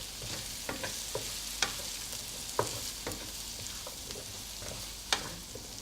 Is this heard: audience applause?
no